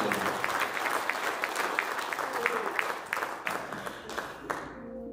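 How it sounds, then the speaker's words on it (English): A church congregation claps in praise during a Baptist service, a warm burst of many hands applauding together that gradually thins and fades out over a few seconds, with some voices mixed in. "I believe we need to give the Lord another hand clap of praise for God's mercy."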